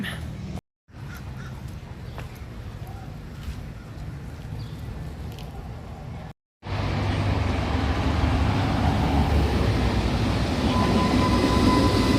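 Steady rumble and clatter from inside a New Orleans streetcar in motion, with a brief cut of silence early on and another just past the middle, after which the rolling noise grows louder and fuller.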